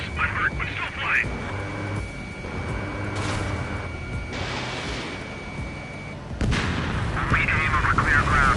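Gunfire and cannon bursts from an Ace Combat flight game, heard amid a dense mix of jet engine roar, warning tones and radio chatter, with louder sustained blasts toward the end.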